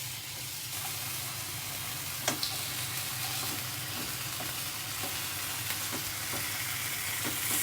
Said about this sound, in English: I'm just going to cook it in the pan